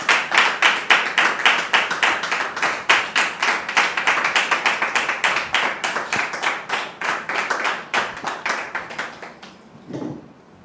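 Audience applause welcoming a guest onto a French-language television talk show: a dense, loud run of rhythmic clapping that holds steady, then fades out near the end.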